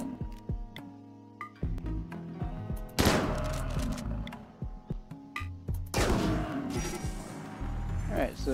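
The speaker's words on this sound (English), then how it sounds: "Start shooting the muffalo." Bursts of rapid gunfire shooting a muffalo in Rimworld, several volleys of sharp cracks, with heavier clusters of shots around the middle and near the end.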